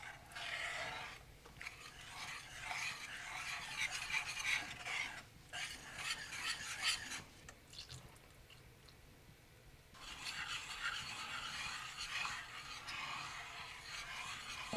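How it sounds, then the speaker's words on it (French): A whisk working through glutinous rice flour batter in a bowl gives a steady, close scraping and swishing, broken by brief pauses and a quieter stretch midway before resuming. "On va pouvoir troquer la cuillère à soupe ou la spatule avec un fouet."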